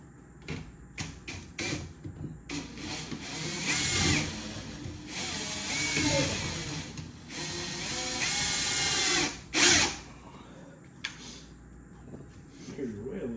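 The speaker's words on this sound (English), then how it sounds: "Power tools." Power tools run during a Trane AC replacement, giving intermittent bursts of drilling and whirring at moderate distance, mixed with clatter and work noise while people talk nearby.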